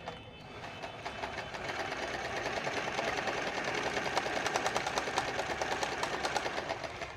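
A sewing machine stitches in one steady run, a fast, even mechanical clatter with regular needle ticks that speeds up slightly, close and continuous.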